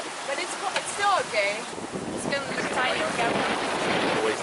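Wind and waves at sea aboard a transatlantic sailing boat in wind-against-current conditions, with loud blustery wind buffeting the microphone over sloshing water, while voices talk faintly in the background.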